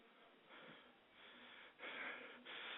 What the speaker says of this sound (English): I'm breathing hard for Christ's sake.